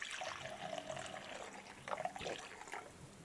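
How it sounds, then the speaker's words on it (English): A rain soundtrack plays very faintly in the background as a soft, steady watery hiss with a few louder splashy swells, and no talking. "I hear rain. Is it raining outside?"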